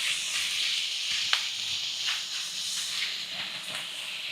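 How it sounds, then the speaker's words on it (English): Food searing on a hot Weber Slate 36-inch griddle set on high heat, a steady loud sizzling hiss with small crackles and pops, close and continuous, no talking. "Let it crystallize and sear."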